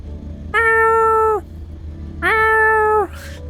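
A cat meows twice, loud and close, each call a long drawn-out tone of just under a second, separated by a pause and heard over a faint steady background hum.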